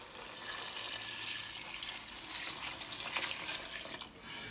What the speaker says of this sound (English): So I'm going to be adding more water to this so that it will help and cook this in the next 15 minutes.